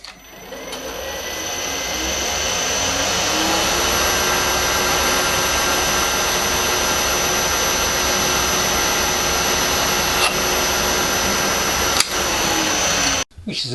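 A steady, loud mechanical whine of a drill boring a 4.2mm hole through metal, running continuously for several seconds, with a sharp click near the end before it stops.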